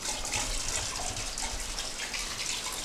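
Hot thermal spring water flowing steadily through an old luxury spa, a continuous close rushing and gushing sound with no pauses and no voices.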